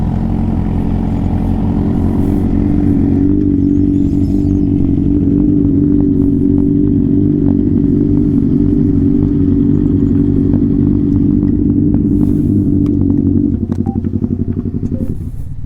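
A group of motorcycles rides along scenic mountain roads, their engines making a loud, close, continuous throaty drone with rattling clatter that changes pitch slightly as they cruise. No one speaks.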